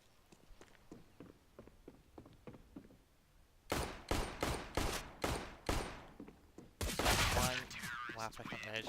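Counter-Strike gunfire: a run of sharp, loud single shots spaced roughly evenly, then a denser burst, following quieter ticking footsteps and clicks, with a voice commentating faintly in the mix.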